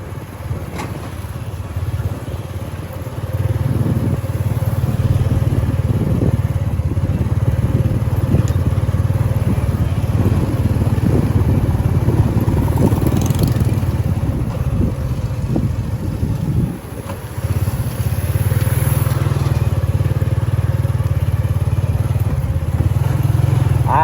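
A motorcycle rides along a rural dirt road, its engine droning loud and steady close to the microphone for most of the stretch, dipping briefly before picking back up, with wind buffeting throughout.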